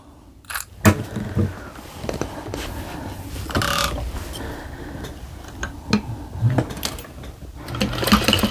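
A home sewing machine stitches around the edge of a pinned receiving blanket at a longer stitch length, a steady mechanical whir with ticks and knocks, close and moderately loud, without talk.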